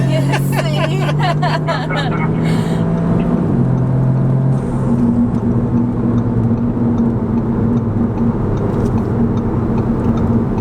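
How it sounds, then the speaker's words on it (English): A loud engine drones and rises in pitch as a car accelerates hard during launch runs between a 2018 Audi S3 and an APR Stage 2 VW GTI Mk7, with chatter and background crowd noise throughout. "Your car's pulling hard, man."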